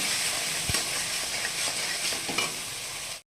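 Spices and salt are stirred in a frying pan for a Bengali potol (pointed gourd) dish, giving a steady sizzle with a few spoon scrapes and knocks, close and continuous before cutting off abruptly.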